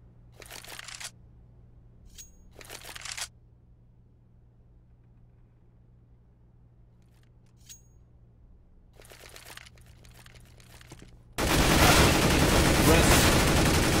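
Rifle spray gunfire in Counter-Strike on the de_cache map, heard as a loud sustained burst near the end, after quieter short bursts earlier in the round and faint background game noise.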